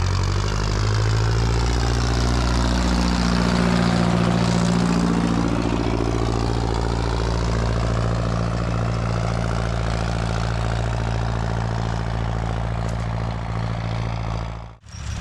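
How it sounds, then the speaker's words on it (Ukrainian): Tractor discing a field before sowing winter wheat, its engine droning loud and continuous with a low shifting hum, fading briefly at the end. "Ще зніму, як трактор дискує."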